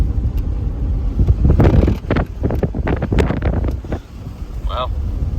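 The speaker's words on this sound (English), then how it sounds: "And the wind is very strong." Strong wind gusting beside the Yukon River in Alaska, a loud continuous roar and buffeting on the microphone with a few sharper gusts, steady throughout and close.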